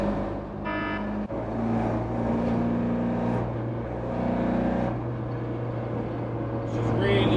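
Ford Escort Mk2 engine running rough under load, a steady droning note with uneven surges and a brief stumble early on as it misfires and loses power, heard close throughout.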